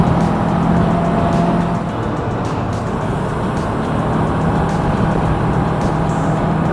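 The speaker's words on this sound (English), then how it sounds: "Oh, truckload of cattle." A truck loaded with cattle passes on a rural road, heard from inside a vehicle as a loud, steady engine and road rumble throughout.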